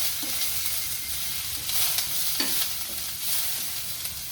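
Shredded cabbage stirred into a hot oiled pan for a chickpea and egg dish, sizzling steadily up close with scraping strokes of the spoon.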